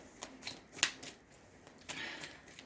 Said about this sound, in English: let's go ahead and pull some Moonology cards